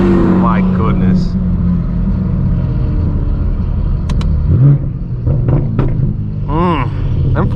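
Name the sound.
straight-piped BMW M4 F82 exhaust revving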